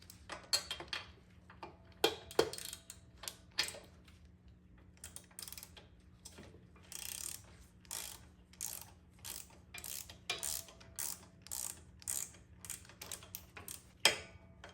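A socket wrench ratchets a spark plug out of a John Deere W36M mower, giving repeated bursts of close, crisp clicking over a steady low background hum.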